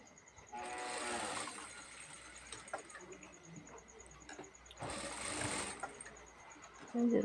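A sewing machine stitches elastic into a cloth face mask in two short whirring bursts with a quiet gap between, fairly faint and close.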